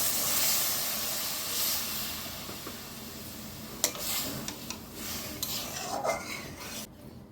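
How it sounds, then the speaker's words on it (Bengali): Water poured into red lentils frying in a pan sets off a rough steaming hiss that fades, followed by a few light clinks and scrapes of a utensil against the pan, no speech. "এই যে এখন আমি জল দিয়ে দিচ্ছি।"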